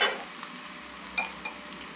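Soft, steady sizzle of crushed curry leaves, ginger, garlic and chilli frying in oil in a small tadka pan, with a few faint clinks of a spoon stirring.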